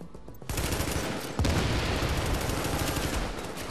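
Turret fire in The Division rattles out as continuous, loud automatic gunfire, starting after a short pause and then intensifying into a dense, unbroken barrage up close.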